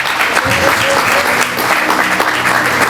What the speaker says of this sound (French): Et si on sourit en applaudissant encore pour lui